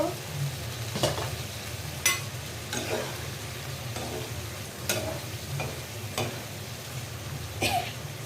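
Eggplant pieces fry with masala in a pan for a katla fish curry, under a constant sizzle. Sharp spatula scrapes and stirring knocks come every second or so, close by, with no talking.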